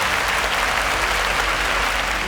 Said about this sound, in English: A round of applause for Shola.